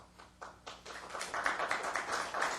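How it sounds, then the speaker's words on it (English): Scattered audience applause at a government meeting, a few quick claps building into a short, moderately loud patter at middle distance. "You can hold your applause."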